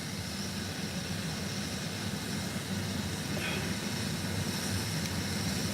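Steady broadband rotor and engine drone of a medical helicopter flying over an ambulance scene, a continuous moderate wash that neither builds nor fades, with no voices.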